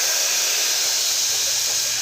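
Water poured into a hot tempering of fried lentils and spices in a pan for methi dal gives a loud, steady hiss of steam that holds evenly throughout, close by, with no voices.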